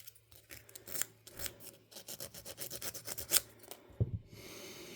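Close, faint scratching and rubbing from a small tool cleaning grime off the battery contact hinge of a Sony MiniDisc MZ-R55 player, in quick irregular strokes ending with a small click.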